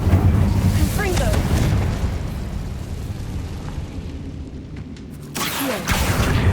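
A Confringo fire spell blasts in Hogwarts Legacy, a loud booming burst that rumbles across the clip, dips into a low roaring tail, then swells again with a fresh blast near the end.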